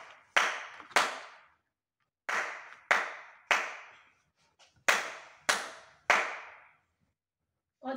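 Nine sharp, close hand claps in a rhythmic pattern, grouped as two, then three, then four, each crisp and ringing briefly in a quiet room.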